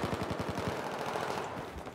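Rapid gunfire in the Battlefield 4 video game on the Pearl Market map, with a dense burst of repeated shots in the first half that trails into sustained noisy combat, loud and close with no talk.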